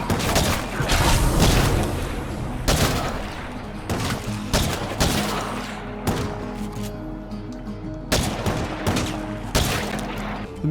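Gunfire in the zombie survival game State of Decay 2: a burst of dense shots at the start, then scattered single shots and booming impacts over a steady bed of game music.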